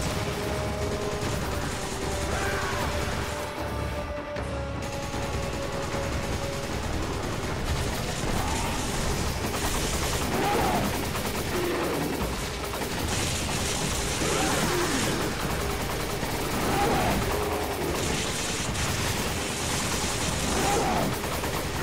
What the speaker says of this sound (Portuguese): Atira na pedra.